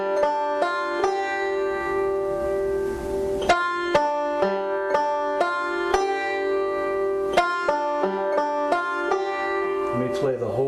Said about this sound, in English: So that backward forward roll sounds like this.